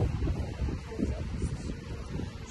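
Gusty wind at a lakeside campsite buffeting the microphone in low, uneven rumbles, fairly close and continuous.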